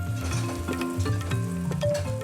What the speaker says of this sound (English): Jeonbyang is made by frying a watery glutinous rice dough